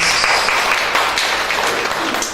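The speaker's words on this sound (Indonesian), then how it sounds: "Tepuk tangan buat Tuhan" A congregation at an evangelical church service claps together, a dense, loud burst of applause filling the short moment without a break.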